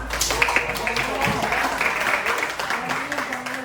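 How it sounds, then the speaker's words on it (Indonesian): Students in a classroom clap for a classmate after a presentation, a moderate, scattered round of applause from a small group, with voices murmuring underneath. "Oke, silakan tepuk tangan"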